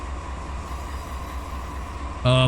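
A heavy coal train in the Run 8 Train Simulator video game rumbles along at a steady pace, with a low continuous drone and a faint hum. A brighter tonal sound cuts in sharply at the very end.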